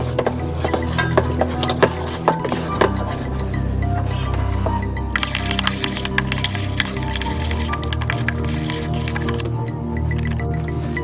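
Peanut butter and frosting fudge mixture being stirred in a bowl, close scraping, squishing and clinks of a utensil against the bowl in an irregular rhythm throughout.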